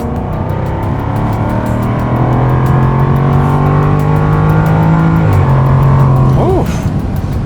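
A Jaguar F-Type R in S mode accelerates hard, its engine and exhaust droning steadily and loud before a brief dip, then a quick blip with a rising rev near the end.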